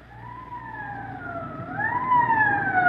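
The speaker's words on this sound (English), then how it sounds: "Code 3, that means red light and siren" A wailing police siren rising and falling in pitch, close and growing louder as the vehicle approaches.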